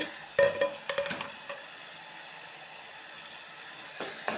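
Tomatoes cook in a pan for a capsicum-tomato dish, stirred so they don't stick: several quick spoon clinks and scrapes early on, then a soft, faint simmering sizzle with one more scrape at the end.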